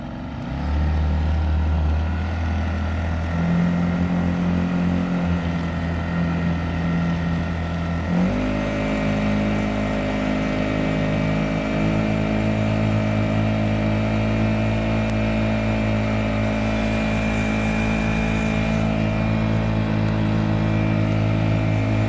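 A small boat's Honda GX50 outboard motor drones steadily throughout, its pitch shifting once partway through and then holding a smooth, continuous hum.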